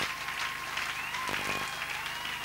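A church congregation applauds with steady, loud, dense clapping that fills the whole room without a break.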